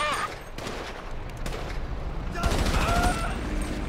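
Bursts of assault rifle fire in GTA 5 crackle through a busy in-game scene, with a brief cluster near the start and a louder, denser volley in the second half, mixed with voices and other game noise.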